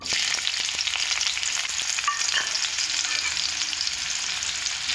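Onions fry steadily in a pan after pieces of kochu (taro) have been lightly fried, giving a loud, continuous crackling sizzle with a few faint stirring clicks and no talk.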